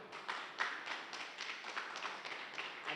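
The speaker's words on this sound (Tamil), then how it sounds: "ஜோரா கை தட்டுங்க" Faint, scattered audience clapping fills a gathering in Coimbatore, Tamil Nadu, during an honouring ceremony: quick irregular claps, soft and somewhat distant, with no clear voices.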